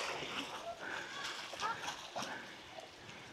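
Fast-flowing water splashes and churns close by, a busy, bright continuous splatter with faint voices under it.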